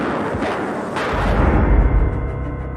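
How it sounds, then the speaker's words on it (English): Blank cartridges fired from a pistol at the Queen in 1981 give a dull, booming burst of shots, moderately loud, in an old archive recording with no talk. "A man came out and fired some blanks at the pair."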